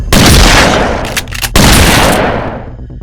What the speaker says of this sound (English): I shot both of them in the heads with the shotgun